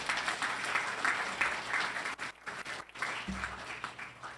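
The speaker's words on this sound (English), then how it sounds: "why don't we give John a round of applause for his service" At a social service and non-profit meeting, a roomful of people applauds a retiring member for his service, steady clapping that dips briefly midway, then resumes with a low voice speaking beneath it.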